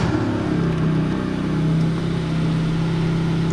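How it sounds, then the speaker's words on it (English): Car engine cranking and settling into a steady, loud idle hum that holds evenly throughout, with no voices. "let's go ahead and crank the car up"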